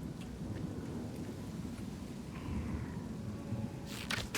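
Thunder and heavy rain from a lightning effect in Path of Exile 2, a steady dense rain wash with a rumble building near the end and a sharp crack of thunder closing it out.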